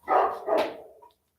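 A dog barks twice in quick succession, a short, fairly close bark followed by a softer yip, with a quiet pause after.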